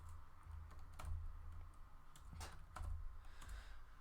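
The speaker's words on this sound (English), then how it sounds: "typing is not going well at the moment" Soft clicking of keys on a computer keyboard, irregular bursts of typing over a low steady hum, fairly quiet and close.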